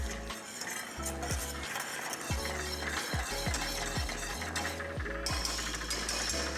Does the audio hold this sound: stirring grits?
yes